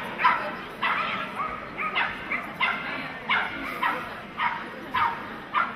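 A small hunting dog barks repeatedly at an agility world championship, a quick series of sharp yips at moderate distance over steady arena background noise.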